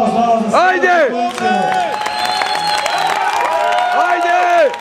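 Crowd at a bodybuilding show clapping, whooping and cheering loudly throughout, with voices shouting over the steady applause.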